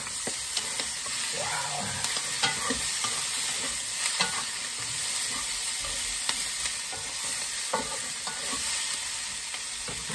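Cubed onion sizzling in a hot pan for a squid stir fry, a bright continuous hiss of frying broken by occasional utensil clicks and stirring scrapes, close and alone.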